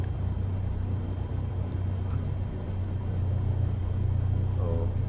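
A Cessna 172's piston engine runs at a steady 1000 RPM with a constant low throbbing drone heard from inside the cabin, without talk.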